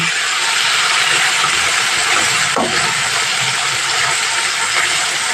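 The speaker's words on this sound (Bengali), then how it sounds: "পুঁটি মাছটা এবার নুন হলুদ মেখে দুবারে দিয়ে ভেজে নেব" Small puti fish coated in salt and turmeric frying in hot oil, a steady dense sizzle and hiss that holds loud and unbroken throughout, close by.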